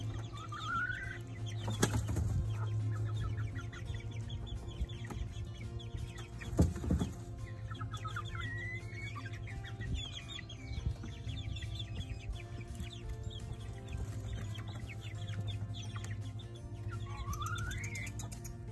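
Chickens cluck and chatter softly on and off, with a couple of sudden bursts of wing flapping, all over a steady low hum.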